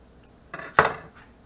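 A sharpened vintage bread knife cuts through a loaf of honey wheat berry bread, giving a brief scrape and then one sharp, close crunching stroke in an otherwise quiet kitchen.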